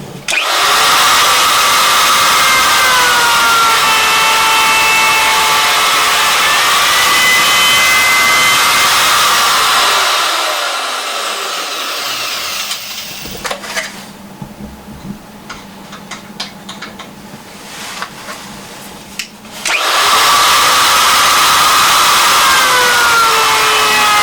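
A router on a woodturning indexing setup cuts into wood with a loud, sustained high whine, drops to quieter clicks and bumps partway through while the piece is repositioned, then roars back into cutting.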